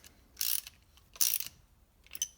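Crankcase bolts on a Sea-Doo Mercury Sport Jet engine are snugged down with a ratcheting tool, making three short clicking bursts separated by brief pauses, close and moderately loud.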